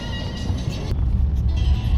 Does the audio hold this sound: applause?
no